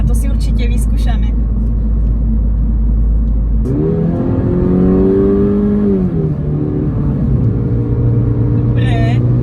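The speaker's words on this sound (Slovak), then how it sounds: "pri stlačení kickdownu to auto hneď valí vpred" A Mini Cooper S R56 turbo, 135 kW (184 PS), kicks down and accelerates hard: the engine note climbs and sweeps upward through the gears, loud and close, with road rumble underneath and a brief voice near the end.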